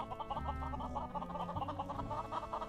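Blocky game chickens cluck in Mini World: Block Art, a steady run of short repeated clucks over a busy, continuous game background, moderately loud with no talking.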